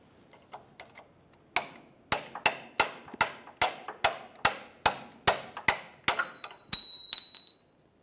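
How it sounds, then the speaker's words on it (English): Control arm mounting bolts are removed from a 2002-2007 Chevrolet, heard as a fast series of sharp metallic ratchet or impact clicks repeating evenly, close and crisp, ending in a brief steady high whir, with no talk. "Now we can start removing those mounting bolts."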